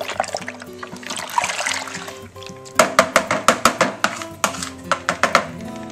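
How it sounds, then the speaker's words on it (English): A crappy kitchen spoon stirs bentonite into home-brew beer wort: a soft liquid swishing, then a quick run of sharp, close knocks of the spoon against the vessel, fading to lighter taps. "So I'm just mixing the bentonite into the wort."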